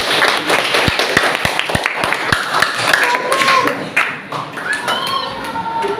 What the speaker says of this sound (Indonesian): Kita berikan dulu tepukan untuk kelas ini.